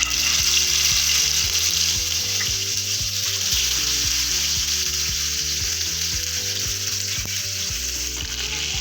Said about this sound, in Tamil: இதுல வஞ்சர மீனை பொரிக்க போறோம்.